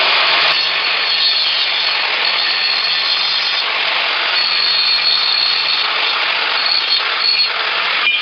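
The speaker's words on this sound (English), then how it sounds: "Now we got ourselves an angle grinder and let's grind it." An angle grinder runs on a 3000W inverter and grinds metal, giving a steady, loud, continuous harsh whine that holds without a break for the whole stretch.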